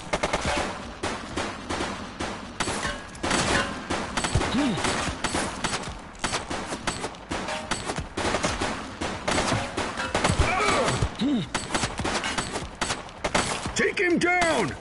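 Rapid automatic gunfire from a police shootout in the video game The Precinct, dense bursts and shots continuing steadily throughout, with shouted voices mixed in.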